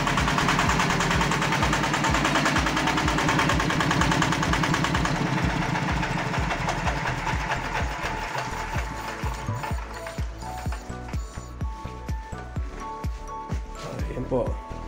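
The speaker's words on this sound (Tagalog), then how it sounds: "Papatayin ko muna itong aking makina." A small engine runs with a loud, steady chugging pulse that eases slightly partway through and keeps thumping to the end without a clear shutdown.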